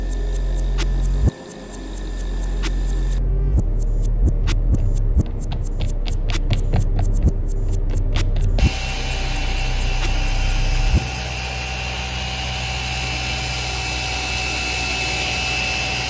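A machine polisher with an orange foam pad and Labo Cosmetica Fiero polish works car paint, its motor droning loud and steady, with a rapid pulsing rattle partway through before settling into an even whine.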